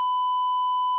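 A single electronic beep plays as a steady pure tone for about a second, loud and constant, then cuts off abruptly, with nothing else heard.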